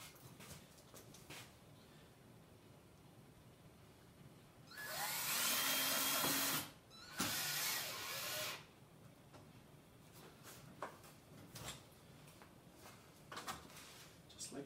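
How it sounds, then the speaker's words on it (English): A cordless drill driver whirs in two short, loud bursts while working on wooden mast hoops for a small boat build, standing out over a quiet workshop background with faint knocks and handling sounds. "Now I went and got the drill driver this time"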